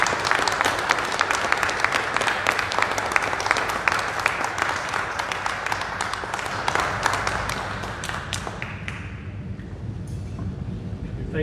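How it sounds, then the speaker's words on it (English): A church congregation at a confirmation service for the feast of St. John of the Cross claps in sustained, dense applause that stays strong for about eight seconds, then thins out and fades away. "let's give them a round of applause"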